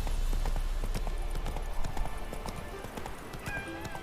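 A horse trotting with steady, close clip-clop hoofbeats over a continuous background rumble, with a brief whinny-like tone near the end.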